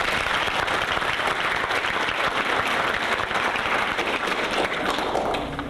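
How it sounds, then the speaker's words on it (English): Audience at a school speech contest breaks into sustained applause, a dense steady clatter of many hands that holds throughout and fades slightly at the end. "let's give each other a round of applause"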